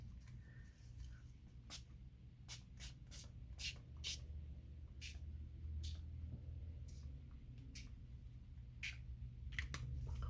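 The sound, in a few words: spray bottle spraying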